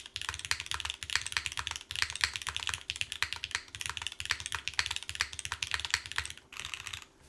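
Steady, fast typing on an LX60 mechanical keyboard with gasket mounting, a dense run of close, crisp, poppy keystrokes going on without a break and with no voices.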